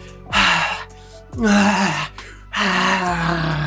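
A voice imitates heavy panting, as from people making out: three loud, breathy gasping bursts with moaning tones, separated by short pauses, close and alone without other talk.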